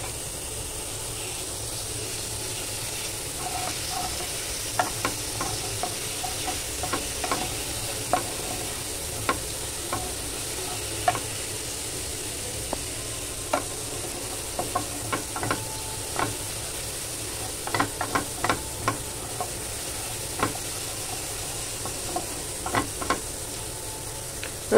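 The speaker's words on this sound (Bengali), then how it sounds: "রসুনগুলোকে একটু ভাজা হতে দেওয়ার জন্য সময় দিতে হবে।" Crushed garlic fries over moderate heat in a pan, a steady soft sizzle with scattered clicks and scrapes of a utensil stirring it, close and continuous with no talking.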